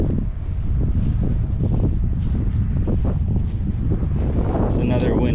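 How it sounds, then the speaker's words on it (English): Strong wind buffets the microphone outdoors with a low, rumbling roar in uneven gusts that continue throughout. "It's another windy day out here."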